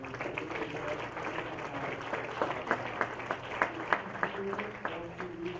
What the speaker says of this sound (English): One more big round of applause for everybody, all our speakers.